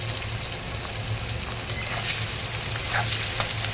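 Bottle gourd pieces and green chillies sizzle steadily in a hot pan for a few seconds, a continuous frying hiss with a low hum underneath and a couple of faint clinks near the end.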